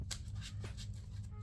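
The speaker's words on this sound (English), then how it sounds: "it's always good to pile shuffle" Playing cards being pile shuffled for a Ghost Zombie combo deck: a quick run of soft, close card slaps and flicks repeats rhythmically over a low, steady hum.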